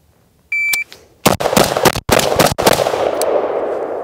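A shot timer beeps, then a pistol fires a rapid string of sharp, loud shots in a bill drill at an outdoor practice range on a freezing day, the reports closely spaced and echoing.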